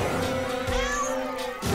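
A cat meows in the South Park: The Stick of Truth video game, a loud drawn-out yowl over game background sound.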